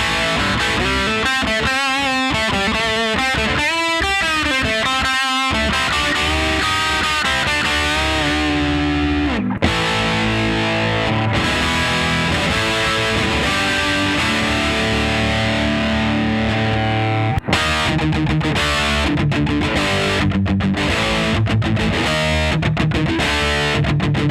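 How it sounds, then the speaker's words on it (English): Heavily distorted electric guitar through a Fulltone OCD pedal in HP mode with drive past 12 o'clock, playing chords and riffs, loud and saturated, with a couple of brief pauses between phrases. "We're really in the realm of distortion now, but even though we're more distorted"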